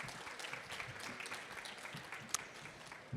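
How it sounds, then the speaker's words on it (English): An audience at a food conference claps for panel speakers being introduced, a brief, fairly quiet round of applause heard from within the room. "Big applause, please."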